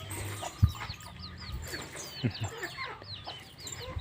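Chickens cluck and chirp in quick scattered calls while an elephant chases them, with two heavy low thuds standing out among the flurry of bird sounds.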